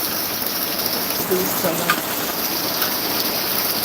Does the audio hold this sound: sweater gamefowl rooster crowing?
no